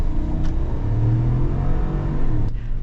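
The 6.2-liter V8 of a 2021 Cadillac Escalade or GMC Yukon SUV hums and rumbles steadily as it accelerates, heard from inside the cabin.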